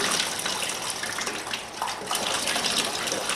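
Water pours and rinses through the cells of a car battery, a continuous close gushing splash with a brief dip midway, no voices.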